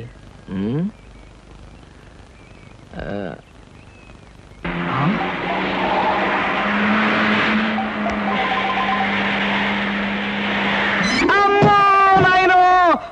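An expensive car in a Telugu comedy film scene drives with a steady, loud engine rumble for several seconds and ends in a rising screech as it skids; short voice bursts come before it.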